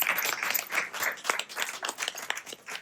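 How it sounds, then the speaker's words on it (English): An event audience applauding a live artist, a room full of scattered claps with sharp individual hits over a steady patter, moderately loud and lasting throughout. "a round of applause"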